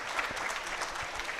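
A crowd applauds a point in a T2 APAC table tennis match between Aleksandr Shibaev and Dimitrij Ovtcharov, with a brief, dense burst of clapping close by.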